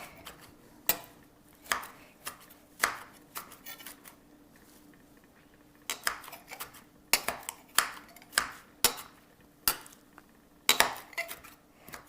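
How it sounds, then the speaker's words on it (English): A knife chops fresh cilantro on a cutting board in sharp, uneven taps, a few isolated strikes first and then a quicker run of chopping, close and crisp with no voices. "we are simply just going to give it a chop"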